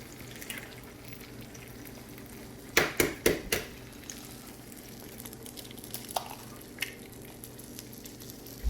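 Eggs frying over easy in a pan give a steady, soft sizzle, with a short cluster of sharper clicks and pops near the middle and a few scattered ticks later.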